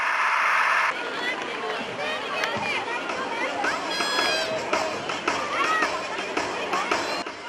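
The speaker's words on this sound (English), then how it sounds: "A round of applause for them." Crowd at a school sports meet cheers and claps for prize winners, a loud burst at first then lively hubbub of children's voices and shouts continuing across the open ground.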